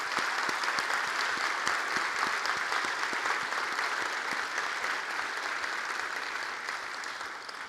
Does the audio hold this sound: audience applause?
yes